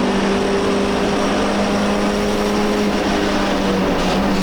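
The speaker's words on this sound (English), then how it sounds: "So you definitely hear the engine seems happy." An MGB race car engine drones steadily and loudly throughout on the Silverstone Grand Prix circuit, a constant high-revving roar with wind rush and no voices.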